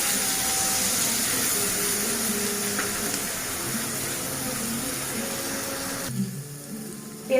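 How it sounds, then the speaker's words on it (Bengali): Onion paste, made from two large onions, sizzles and hisses steadily in a pan, a continuous close frying noise that drops away near the end. "এবার দিয়ে দিচ্ছি বেটে রাখা পেঁয়াজ।"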